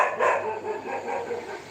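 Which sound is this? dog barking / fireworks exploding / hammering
dog barking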